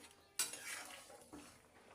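A utensil stirs fried shing fish into a thin radish curry in a metal pot, giving a short sharp scrape followed by softer clinks and a second scrape, close and quiet, with no talking.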